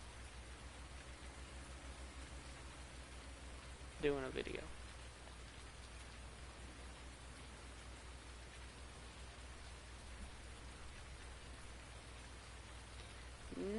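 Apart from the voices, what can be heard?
rain in a farming video game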